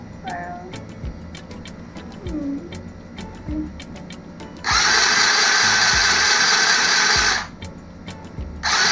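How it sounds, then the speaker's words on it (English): A mini sewing machine runs in a steady, loud mechanical whir for a few seconds, then stops and starts again briefly, with sharp clicks and light handling noises in between. "as you can see, it's sewing there."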